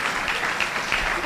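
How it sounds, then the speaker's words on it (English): A town hall audience applauds steadily as a new councilwoman comes up, a dense wash of clapping filling the room for a short stretch. "Give her a big round of applause."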